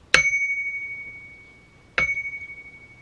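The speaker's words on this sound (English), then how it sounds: "This has a very nice chime sound that you may have heard throughout the video." Two clear, bell-like dings from the chime of an RCA 7-TR-2 tape recorder, struck about two seconds apart, each ringing out with a long, pure decaying tone in otherwise quiet surroundings.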